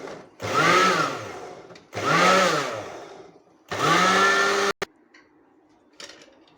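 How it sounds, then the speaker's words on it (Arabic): Food processor chopping quartered onions: three loud pulsed bursts of motor whine, each rising and lasting about a second and a half, close by, with short quiet gaps between them and a faint click at the end. "قطعت البصل 4 ارباع حطيته في الكبة، هبدأ افرمه"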